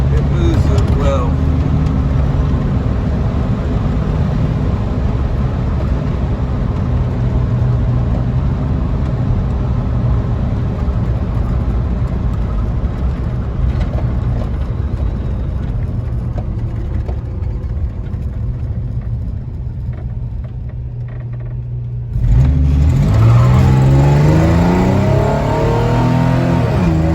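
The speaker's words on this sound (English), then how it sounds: "This V6 moves this truck, but it moves it well." A 1947 Ford F1 pickup truck with a V6 runs and drives, its engine droning steadily and loudly from inside the cab before a brief easing and a fresh surge of revs near the end.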